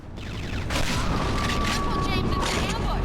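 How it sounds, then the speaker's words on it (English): Loud booming shotgun blasts in the video game James Bond 007: Agent Under Fire, heavy reverberant bursts layered with game effects and a faint tonal hum, close and dominant. "Shotguns"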